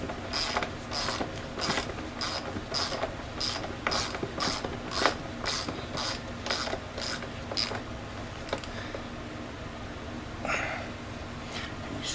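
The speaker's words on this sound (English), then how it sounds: "I like to get them started by hand before I start cranking on them with a wrench." A ratchet wrench tightens subframe bolts on a 2020 KTM XC 300i dirt bike, giving a close, steady run of rhythmic clicking that slows and fades near the end, with no talking.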